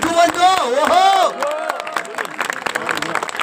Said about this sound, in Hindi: एक और जोरदार वाली तालियां हो जाए मिडिल फिंगर के लिए।